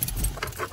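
Car keys jangle close by in a brief, soft metallic rattle of a few quick clinks over a low background hum.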